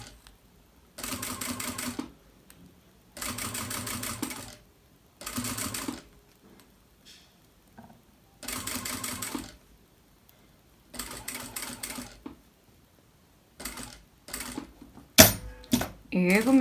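Sewing machine stitching bias binding onto fabric in a sewing studio, running in several short bursts of a few seconds each with quiet pauses between, ending in a rapid clattering run.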